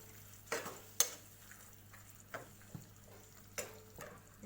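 Mixed sprouts for misal are stirred in a pan with a utensil, giving a few scattered scraping clinks and taps over a faint steady sizzle, close and fairly quiet.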